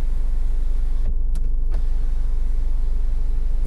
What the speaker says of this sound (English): And you have got the sunroof here as well.